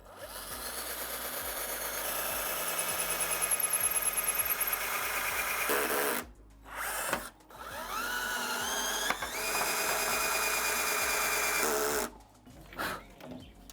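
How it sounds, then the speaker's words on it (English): A power drill whirs loudly in sustained bursts while drilling holes in wood planks on a dresser top, its pitch rising and falling as it bites, with brief pauses between runs. "I'm just gonna go ahead and drill some holes."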